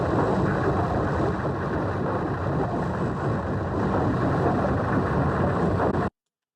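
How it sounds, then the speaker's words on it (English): Layered engine sound from the video game Death's Door, built from high, mid and low layers plus texture: a dense, steady mechanical rumble that holds constant for about six seconds, then cuts off abruptly. "That gives you your engine sound."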